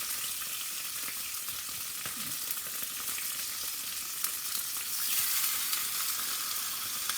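Flounder frying in a thin layer of oil in a pan, giving a continuous bright crackling sizzle that stays steady and close, swelling slightly louder near the end, with no talking over it.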